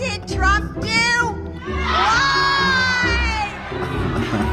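Political rally crowd erupting in loud, continuous cheering and high-pitched shouts and whoops, close and dense for several seconds.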